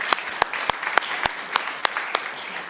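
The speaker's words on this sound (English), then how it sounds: "You can clap." A small audience claps in a sparse, uneven burst of about ten distinct hand claps, light and moderately close, with a faint room murmur beneath.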